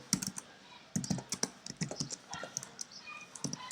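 Keys clatter on a computer keyboard as someone types out a short line of web code, a quiet run of irregular clicks and taps with brief pauses between bursts.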